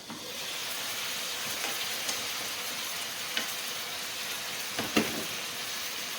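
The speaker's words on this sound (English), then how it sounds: "I can hear the water starting to sizzle" Chicken frying in a pan gives off a steady, soft sizzle and hiss throughout, with a few faint clicks and stirring scrapes along the way.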